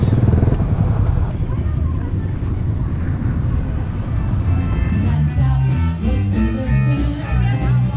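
A small motorcycle at a Distinguished Gentleman's Ride in Austin, Texas, revs loudly and pulls away, its engine note rising steadily and staying close throughout.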